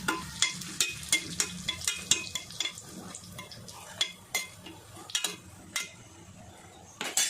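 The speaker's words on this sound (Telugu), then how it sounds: "కొద్దిగా జీలకర్ర కొద్దిగా ఆవాలు కొద్దిగా వేగా వేయాలి" Cumin and mustard seeds fry in hot oil with green chillies, giving quiet crackling with repeated sharp clinks and scrapes of a utensil against the pan throughout.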